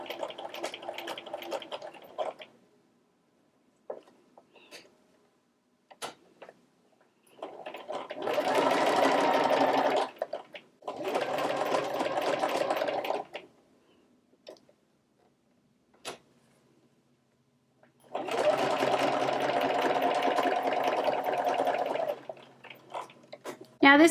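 A sewing machine stitches vegan leather in several bursts of steady mechanical whirring, some short and some several seconds long, separated by quiet pauses with faint ticks, close and clear.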